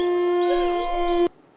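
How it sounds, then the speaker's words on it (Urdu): A pack of jackals howls in the distance, heard as one sustained, steady, high wavering cry that holds for just over a second and then cuts off abruptly. "یہ گیدڑ کے غول کی آواز تھی۔"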